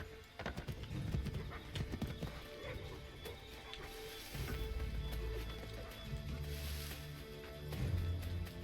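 Horse hooves clip-clop in an Assassin's Creed 3 game scene, a rapid repeated beat from a galloping mount that slows and stops, with a whinny and soft game ambience around it and no talk.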